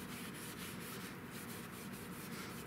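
A rag dampened with mineral spirits wipes excess black paint off a wooden gunstock, a soft, continuous rubbing and scrubbing that stays close and quiet with faint rhythmic strokes.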